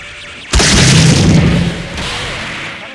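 An explosion in a MUGEN 1.1b1 fighting game, a single loud, sudden boom that erupts and then rumbles away over about a second and a half.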